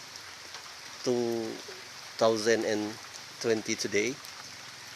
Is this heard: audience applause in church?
no